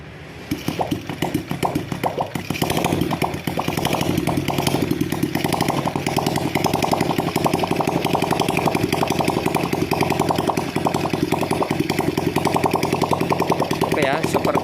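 A Yamaha Vega R motorcycle engine bored up with a Vario 125 piston starts and settles into a steady, buzzing idle close by after a brief quiet opening, running continuously and loudly to the end.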